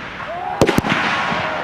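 SVD sniper rifle shots ring out at a sniper shooting competition, two sharp reports in quick succession with echoing tails, over a steady outdoor background hum.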